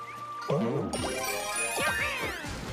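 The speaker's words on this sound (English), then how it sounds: "Watch the super bell fall from the sky at the speed of light." A Super Bell power-up drops from the sky in a Mario video game, giving a bright jingling, tinkling chime with quick descending bell tones and sparkly ringing that lasts a couple of seconds, close and clear with no talking.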